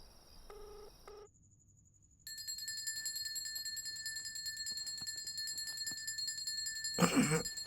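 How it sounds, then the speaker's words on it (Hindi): Mobile phone ringing with a steady electronic ringtone melody, close and clear, repeating tones that play on for several seconds after a few short beeps, with a brief burst of noise near the end. "अबे तेरा फोन बज रहा है।"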